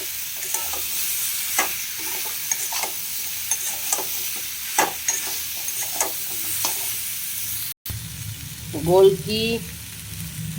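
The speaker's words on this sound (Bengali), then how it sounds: "পটলগুলো একটু ভালো করে কষে নেব।" Chopped pointed gourd stir-frying in a pan over lowered heat, with a soft steady sizzle broken by repeated scraping and stirring strokes; near the end a louder clatter and sizzle burst as more is added.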